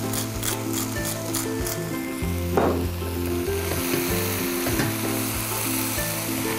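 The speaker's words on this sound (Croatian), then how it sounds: "Sada dodamo i maslac. Malo čilija s morskom soli." Butter with chili and sea salt sizzles steadily in a pan, the hiss close and continuous, with brief stirring scrapes and a tonal background hum running throughout.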